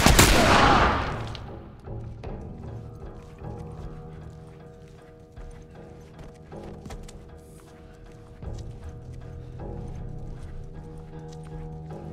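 Gunfire in The Last of Us Part I: a loud burst at the start, then scattered sharp shot transients over a steady in-game ambience, with no voices.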